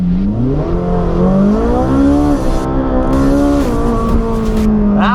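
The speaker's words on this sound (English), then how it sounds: "put the car into launch control. So we've got the car in race mode. Put your left foot all the way on the brake, press the PS button, and then floor the gas" A Ferrari 458 Speciale in race mode launches under launch control with heavy wheelspin, its engine note climbing loud and close through rising revs and brief shift dips, ending with a short squeal.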